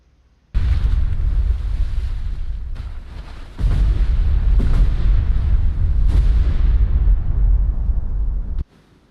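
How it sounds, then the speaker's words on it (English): Depth charges detonating in the naval game Destroyer U-Boat Hunter: two long, deep rumbling explosions, the first starting abruptly and the second following a few seconds later, both loud and booming, then cutting off. "Ready depth charges."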